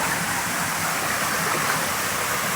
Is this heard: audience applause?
no